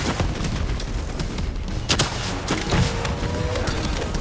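Rapid gunfire in the video game Call of Duty Black Ops III, with bursts and sharp shots crackling steadily over a dense combat din of explosions and effects, no clear voice on top.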